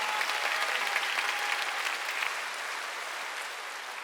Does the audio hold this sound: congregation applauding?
yes